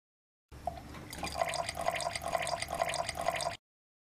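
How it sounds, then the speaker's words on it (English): Water drips into oil in a Kleenoil bypass filter demonstration, falling in about seven evenly spaced drops over a soft, constant hiss, close and fairly quiet. "we'll add some water to the oil and show Kleenoil's water removal capabilities"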